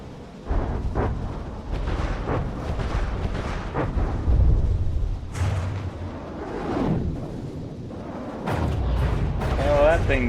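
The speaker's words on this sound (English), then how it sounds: "there goes my missiles hitting me again" Missiles and torpedoes explode in the naval combat video game From the Depths, with repeated heavy booming blasts and rumbling impacts, some whooshing launches, and a loud barrage near the end, under continuous game noise and a person talking.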